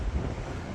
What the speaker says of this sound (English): It's always windy at Kettleness.